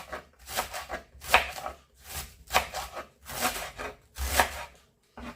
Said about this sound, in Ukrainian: І нарізаю середніми такими по величині смужками.